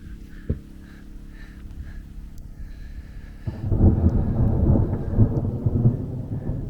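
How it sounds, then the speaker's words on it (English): Thunder from a storm overhead on the Nullarbor rolls in as a low, heavy rumble that swells and lingers, with rain and wind noise underneath after a quieter opening. "There you go, bit of thunder for you."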